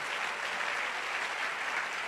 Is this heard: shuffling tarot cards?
no